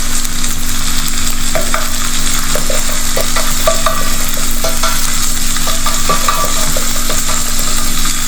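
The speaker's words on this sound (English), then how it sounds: "Give it all a mix, keep sauteing." Shallots sizzle loudly in a pan while a utensil stirs them, a dense, steady frying hiss with repeated close scraping and clinking, no voices.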